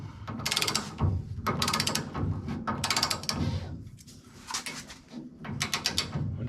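Ratchet strap being cinched down on a QA1 suspension part, several bursts of rapid close clicking pawl strokes separated by short pauses, no speech.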